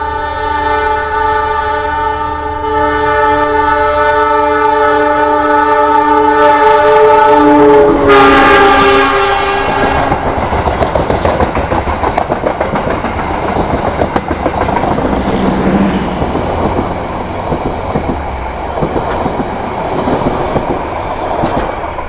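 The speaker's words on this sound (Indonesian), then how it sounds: "inilah momen naik kereta api Tawang Alun" A loud train horn blares for several seconds, then the Tawang Alun train, pulled by two locomotives, rumbles and clatters steadily on the rails, close and continuous.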